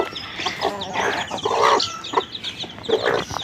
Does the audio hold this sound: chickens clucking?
yes